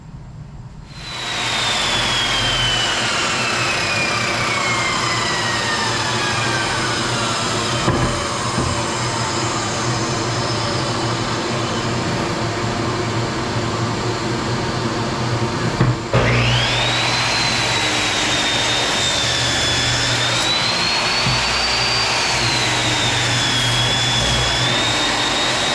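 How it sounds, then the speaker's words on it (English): A miter saw cuts through a wooden cutting board, its loud motor whine running steadily for the whole stretch, spinning up at the start, with a sharp bite into the wood partway through and a shifting pitch as the blade works. "so I'm going to use the miter saw"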